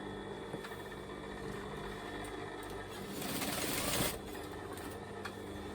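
An overlocker stitches a seam on a satin pillowcase, a fast even mechanical whir heard close and steady, rising briefly in loudness toward the end, with no talking.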